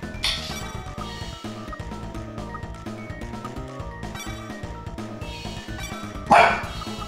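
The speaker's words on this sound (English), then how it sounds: "Puppy, why you bark at me?" A puppy barks in a game soundtrack, a few sharp yips and bow-wows over steady background music, with one louder burst near the end.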